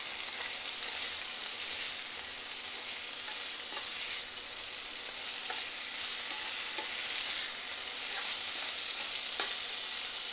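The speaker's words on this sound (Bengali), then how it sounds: "চলো এখন জিরেটা পুড়ে গেলে মাটি আলুটা দিয়ে দেবো" Potatoes fry in hot oil with cumin seeds, giving a steady, dense sizzle that holds evenly throughout with faint crackles and no voices.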